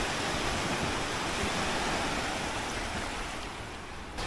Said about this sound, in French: Attends, c'est les vagues ça.